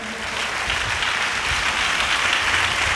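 A church congregation applauds loudly and continuously, a dense, even wash of clapping filling the whole three seconds with no pause.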